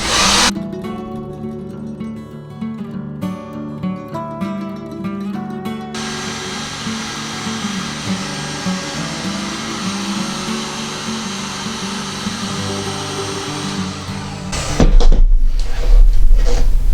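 Heat gun warming a cast resin bowl: a steady, loud whooshing blower hum running close by for about fourteen seconds, then shutting off, followed by clattering handling noise.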